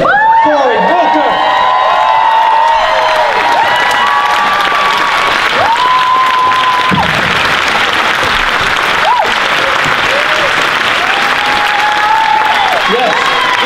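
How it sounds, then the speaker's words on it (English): A large conference audience at a progressive political gathering applauds and cheers as Senator Cory Booker takes the stage, with dense sustained clapping, whoops and shouts filling the room throughout. "Yes, give him a round of applause."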